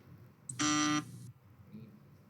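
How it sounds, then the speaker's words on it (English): A harsh electronic buzzer blares once for about half a second, loud and near, with low background murmur around it during a fantasy football draft broadcast. "Oh, we got a buzzer."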